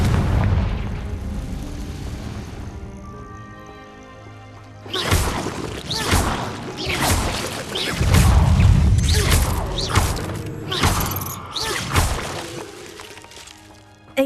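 Confringo blasting-spell explosions in the Hogwarts Legacy video game, several booming impacts and crackling bursts in close succession after a quieter stretch, loud and near.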